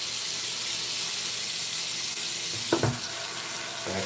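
Warm water runs steadily from a bathroom tap as a shaving brush is rinsed, a soft even hiss of flow with a brief splashing change near the end, no voices.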